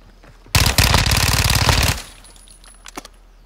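Sustained automatic fire from a Fennec 45 SMG in Modern Warfare 2: a loud, dense burst of rapid shots lasting about a second and a half, followed by a few faint scattered pops and quiet game ambience.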